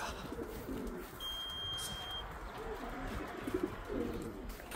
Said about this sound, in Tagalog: Ito may pang 8 birds tayo mga kalapatids.